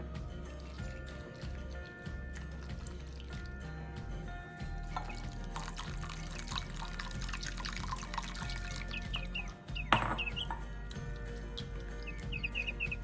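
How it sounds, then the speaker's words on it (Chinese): Water, a measured 250 ml, pours into a flour batter for crispy fried tofu and is stirred in, a soft trickling and dripping under steady background music. "然后再加入250毫升清水拌匀"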